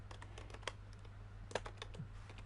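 Keys clatter on a computer keyboard left sticky by spilled coffee, with scattered close clicks and a couple of sharper presses standing out above a faint steady hum.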